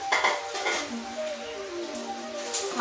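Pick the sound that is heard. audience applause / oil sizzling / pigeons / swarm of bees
oil sizzling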